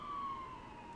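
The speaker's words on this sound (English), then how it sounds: "Sorry, there's a siren." A distant emergency siren wails outside, its steady tone drifting slightly downward as it passes, faint under a quiet indoor room tone.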